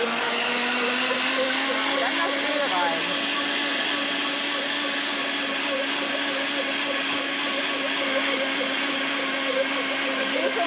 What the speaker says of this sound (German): Jetzt kann ich diesen super Mixer, ich glaube, von Gourmet Max starten.